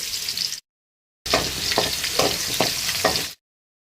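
Loud oil sizzling and spattering in bursts as crushed garlic and chillies fry for a fish curry, broken by short silent gaps, with stirring scrapes in the middle stretch.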